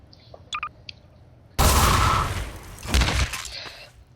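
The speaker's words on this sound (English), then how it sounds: "Look how many bullets they fired then." After a few faint electronic beeps, a dense roar of rapid gunfire erupts in a GMod singleplayer mod showcase, a sustained clattering barrage lasting under a second before a second shorter burst follows.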